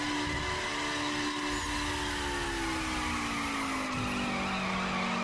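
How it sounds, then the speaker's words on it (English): A BMW M4 in The Crew racing game performs a nitrous burnout, a continuous loud tire squeal over a droning engine whose pitch slowly slides downward, with no talking. "And do a little burnout."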